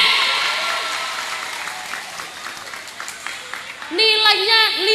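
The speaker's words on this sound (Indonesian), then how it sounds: "Tepuk tangan untuk regu B" An audience claps for a team at an Islamic religious gathering, a dense, steady round of applause that fades, and then a voice cuts in near the end.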